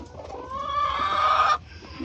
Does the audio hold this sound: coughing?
no